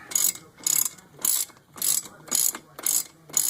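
A ratchet tightens a front brake bolt on a Corvette during a brake and rotor install, giving seven quick, evenly spaced, close metallic clicking bursts.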